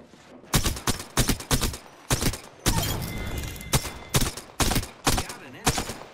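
Rapid bursts of disruptor-round gunfire in Apex Legends, loud, close and repeated in sharp volleys with short gaps, one longer sustained stretch of shots in the middle.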